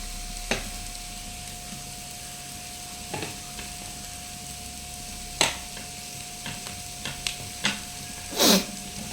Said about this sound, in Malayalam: അതിന് ശേഷം നമ്മളുടെ ചെറിയുള്ളി ചതച്ച് വെച്ചത് നമ്മൾ ഇട്ട് കൊടുക്കുക.